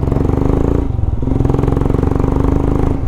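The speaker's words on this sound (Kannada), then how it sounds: "ಇಂಜಿನ್ ಫುಲ್ಲು ಸ್ಮೂತು ಬೆಣ್ಣೆ" A motorcycle engine runs steadily close by, its throbbing rumble holding an even pace with slight pulsing, no voices.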